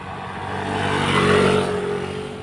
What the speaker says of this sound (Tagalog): Dami naman tayong mga motor dito.